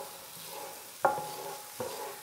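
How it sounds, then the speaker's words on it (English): A quiet sizzle of onions in oil in a pan with two soft scraping stirs, about a second apart. "we'll give this a quick little stir"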